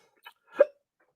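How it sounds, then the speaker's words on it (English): A single person's hiccup, sharp and close, comes after a faint short catch of breath, with silence around it. "got the hiccups."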